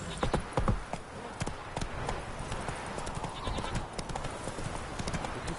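Horse hooves clip-clop steadily in The Witcher 3, a quick repeated trot up close over a continuous game ambience, with faint bleating animal sounds mixed in.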